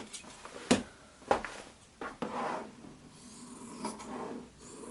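Quilting fabric cut away from a strip, heard as a few short, close snips and rasps spaced about a second apart in a quiet room.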